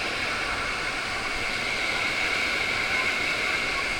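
A waterfall along the Marilaque route in the Philippines, its water rushing as a loud, steady broadband roar that stays constant throughout, close by and with no other sound standing out.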